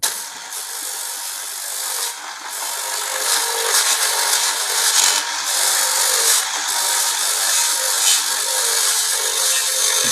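A hand saw trims a millimetre off a workpiece, with steady, loud, rasping strokes running continuously and close up, pulsing slightly with each stroke.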